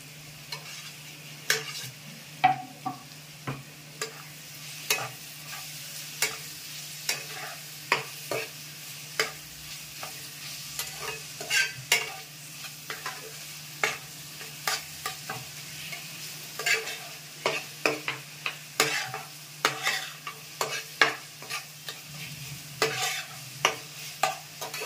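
Chopped shrimp are stirred in a frying pan with zucchini, bringing repeated scraping clicks from a spatula against the pan over a soft ongoing sizzle and a low steady hum, with no talking.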